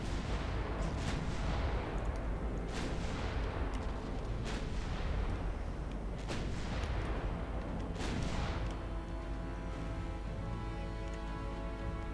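Secondary guns on a German 1910 warship in Ultimate Admiral Dreadnoughts fire in a steady series of sharp cracks roughly every second or two over a constant low rumble, the shots thinning out toward the end.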